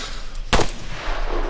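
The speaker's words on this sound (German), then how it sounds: "Hast du Schüsse gehört?" A single sharp gunshot cracks out in the Arma 3 video game, loud and close, ringing briefly over a low ambient rumble with no talk.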